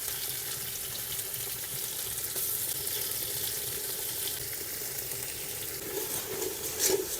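Spices sautéed in a pot over a clay stove give a continuous close sizzle, broken now and then by scraping strokes of a stirring spoon, with a louder clatter near the end and no talking.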